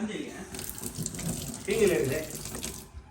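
Tap water runs steadily into a sink as hands are washed, a soft continuous splash with a brief louder gush near the middle, with faint voices in the background.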